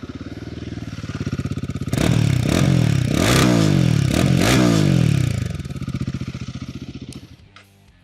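Royal Enfield Guerrilla 450 motorcycle engine idles and then revs loudly several times in quick bursts before settling back, heard up close, with a brief spoken remark near the end.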